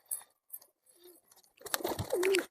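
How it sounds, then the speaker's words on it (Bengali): A dove chick is hand-fed among pigeons in a bird house, with scattered soft rustles and taps, then a busier flurry of fluttering and a short thin chirping call near the end. "ঘুঘুর বাচ্চাটাকে খাওয়াচ্ছি, খাওয়াতেই দিচ্ছে না"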